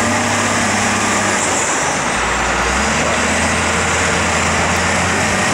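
A CAT 928G wheel loader runs loud and continuous while loading sand into a 1991 Ford L9000 plow and sand truck, its engine drone steady with a shift in pitch partway through.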